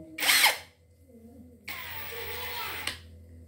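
An APR AP127 impact wrench whirs in two bursts, a short high-pitched spin followed by a longer steady run that cuts off abruptly, with faint low voices between.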